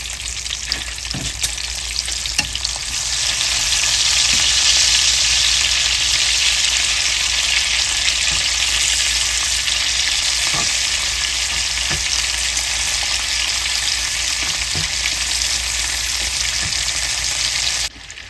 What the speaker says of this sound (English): the last of our bacon is in the pan here